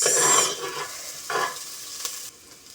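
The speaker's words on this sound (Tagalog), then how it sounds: "Yan, gisa-gisa lang. Sibuyas at bawang." Onion and garlic sauté in a pan for pork ginisang monggo, a short burst of loud sizzling followed by quieter frying hiss and a few stirring scrapes, close up with no speech.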